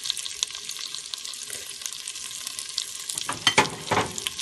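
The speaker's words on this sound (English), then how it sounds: "I just want to give them a bit of a stir fry with the butter and the oil and the garlic" Shrimp stir-fry in a skillet with butter, oil and garlic for a blackened Cajun shrimp dish, a steady close sizzle with crackles and spatula scrapes growing busier toward the end.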